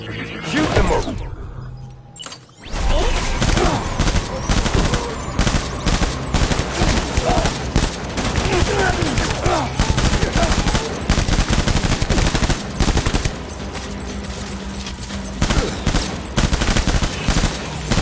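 Automatic gunfire in the video game Death Stranding Director's Cut, sustained rapid bursts of machine-gun fire with clattering mechanisms, loud and close, running almost continuously after a brief pause near the start.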